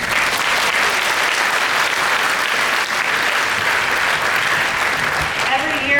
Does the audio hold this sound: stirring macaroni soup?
no